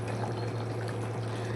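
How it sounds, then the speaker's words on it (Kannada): A thick cooking mixture simmers in a pot with no added water, giving a steady close bubbling wash with a low constant hum beneath, and no voices. "ನೋಡಿ ಈ ಥರ ಕುದೀತಾ"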